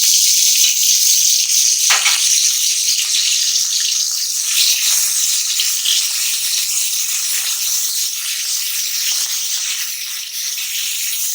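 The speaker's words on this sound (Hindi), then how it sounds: "अब मैं 1 चम्मच इसमें अदरक लहसुन का पेस्ट डाल दूंगी।" Ginger-garlic paste sizzles and fries steadily in hot oil, a loud continuous crackle that eases slightly over time, with no talking.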